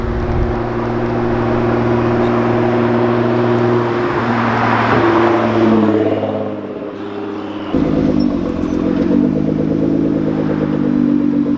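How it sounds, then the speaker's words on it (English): A Nissan GT-R approaches with a loud, rumbling engine drone that rises, dips briefly as the car shifts or lifts off, then resumes with a close, throbbing growl and some clattery mechanical noise. "Pete's coming by with the GTR"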